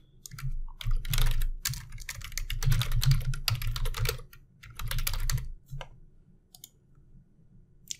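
A name and email are typed on a computer keyboard in quick, close bursts of clicking keys, with short pauses between runs and a quiet stretch near the end.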